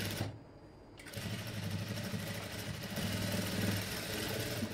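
A sewing machine stitching invisible thread piping onto the cross-cut front of a fabric garment: after a brief pause near the start, a steady rapid mechanical whirr runs close and continuous, with no talk.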